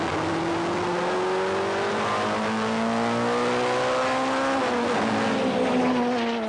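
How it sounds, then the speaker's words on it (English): 1989 BTCC touring cars race at Silverstone, among them a Golf GTI. The engines drone steadily and loudly at high revs, with rising and falling pitch as the cars pass close by. "Alan Minshaw's Golf GTI trying to make progress after qualifying badly."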